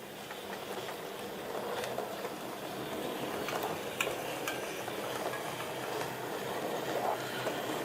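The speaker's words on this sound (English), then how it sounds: "our departing train reveals another type of push-pull" A push-pull passenger train at Lyme Regis rumbles and rattles steadily on the rails as it pulls away, with occasional sharp clanks over a continuous hissing roar.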